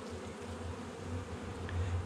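Honey bees buzz at the hive, a close, continuous droning hum that stays steady throughout.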